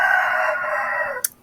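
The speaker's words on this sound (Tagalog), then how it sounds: "may manok lang sa amin" A rooster crows loud and close, one long sustained call that holds steady before breaking off sharply near the end, with no talking over it.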